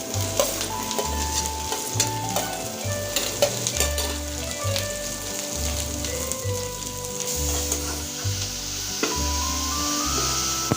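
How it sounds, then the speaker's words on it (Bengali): Chopped onions with potato sizzle steadily in a hot pan while a spatula stirs and scrapes in a regular rhythm, the frying constant and fairly close. "পেঁয়াজটা ভেজে নিচ্ছি"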